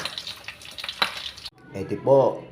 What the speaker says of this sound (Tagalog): Ito na po yung pansasahog po natin. Piniprito ko po.